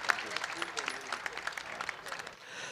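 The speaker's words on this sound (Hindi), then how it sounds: "भरपूर तालियां शाहिद आफरीदी साहब के लिए" An audience at an Urdu conference session in Karachi applauds Shahid Afridi, a dense spread of clapping that runs throughout and fades slightly at the end.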